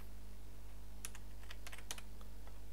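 Sparse keystrokes on a computer keyboard while HTML code is typed, a few quick clicks in small bursts over a steady low electrical hum, fairly faint and close, with no talking.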